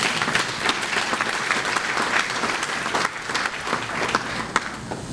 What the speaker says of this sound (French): Pédrica, ton courage demande un applaudissement